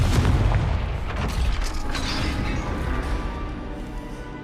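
A Confringo fire spell explodes in Hogwarts Legacy, a heavy booming blast that hits loudly at the start and then rumbles and crackles on with dense debris noise for several seconds.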